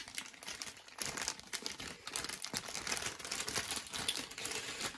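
A plastic Ziploc bag crinkles and rustles during an unboxing, close and continuous with quick irregular crackles, no talking.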